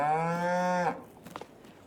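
A single cow in a farming video game lets out one long, sustained, clear moo, followed by faint scattered thumps and rustles.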